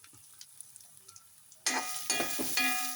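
Quiet scraping at first, then a sudden loud sizzle as grated coconut, onions and fenugreek hit a hot pan, crackling strongly with a few stirring bursts.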